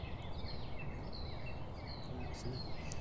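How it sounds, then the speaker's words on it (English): Small birds chirp and trill faintly in the distance over a steady outdoor background hum at a barn building site, with scattered calls repeating throughout. "if we're quiet, you can hear all those birds."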